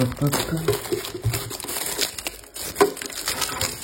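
Pokémon card tin cube packaging is pried open by hand, close crinkling and crackling of plastic and cardboard in irregular bursts, while someone talks over the handling.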